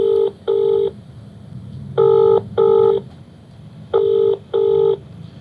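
Telephone keypad tones dial out a call, six crisp beeps arriving in three evenly spaced pairs over a low background hum, with no voices.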